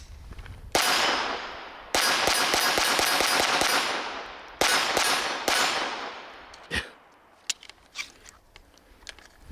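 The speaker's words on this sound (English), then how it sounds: "this is the CCI Mini Mag copper plated rounds, and we're gonna keep shooting them through the Walther PPQ in 22." A Walther PPQ 5-inch .22LR pistol fires CCI Mini Mag copper-plated rounds in quick sharp bursts of close, loud cracks with ringing tails, then a few scattered shots as the firing tapers off.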